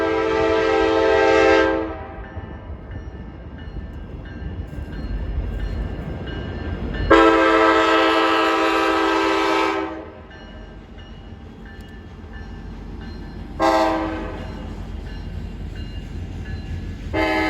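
An Alaska Railroad train at the downtown Anchorage passenger station sounds three loud horn blasts, a long one, a second long one and a shorter final one, over the steady low rumble of the rolling train.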